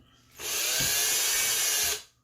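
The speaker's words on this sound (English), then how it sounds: "I'm going to use an 1/8" drill bit." A power drill with a 1/8-inch bit whirs up, runs at a steady high-pitched whine for about a second and a half, then winds down; close and loud.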